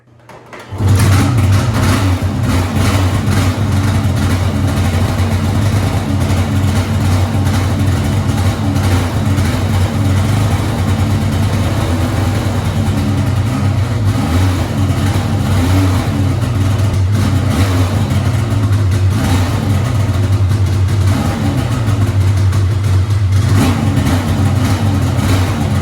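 Rebuilt Polaris 800 snowmobile engine in a 2017 RMK Pro running loud and close, a steady mid-pitched engine roar holding for about twenty-five seconds after a quick start.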